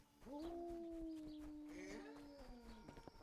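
A dog in a field in the medieval game Kingdom Come: Deliverance lets out a long, sustained howl that holds steady and then fades. It is fairly quiet and heard alone.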